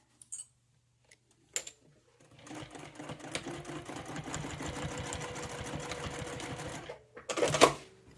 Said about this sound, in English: then we're going to sew across here